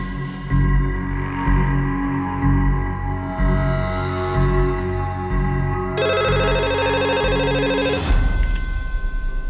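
A telephone ringing on an outgoing call from a police scene: steady repeating ring tones held for several seconds, loud and near, with a shift in the ring pattern before it cuts off, no talk.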